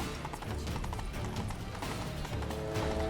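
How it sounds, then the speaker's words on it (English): Rapid galloping hoofbeats from a horse race in The Witcher 3: Blood and Wine clatter steadily under a dense wash of crowd noise and music, with a brief horse whinny mixed in. "A horse race against the Duchess."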